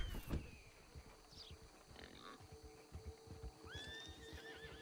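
A horse whinnies and snorts in Red Dead Redemption 2 amid soft hoof clops and outdoor ambience, fairly quiet with a couple of drawn-out neighs near the end.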